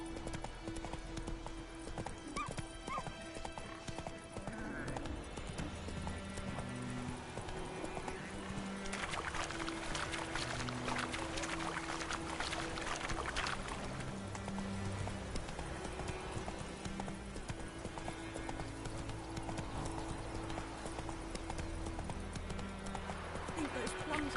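The horse Roach gallops in a video game, rapid rhythmic hoof clip-clops running steadily throughout with an occasional whinny, while people talk over it.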